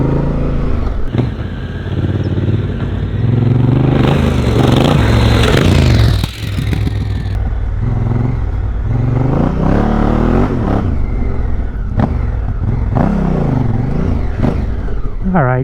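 A heavy Honda Africa Twin motorcycle ridden off-road: a close engine that revs and climbs, drops off, then rises again, with scrapes and clatter and a rider's voice talking over it.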